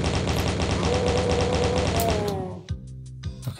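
Chaingunner enemies fire rapid, continuous machine-gun bursts in Doom 2, a loud rattling stream that ends abruptly, followed by a few scattered clanks and thuds.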